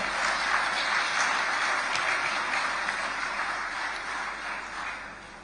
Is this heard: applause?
yes